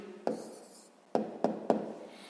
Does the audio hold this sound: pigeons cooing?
no